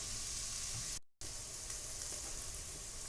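Onions and celery cook in sausage drippings with a steady, soft hiss of frying, briefly cut out near the start and then continuing evenly and fairly quiet.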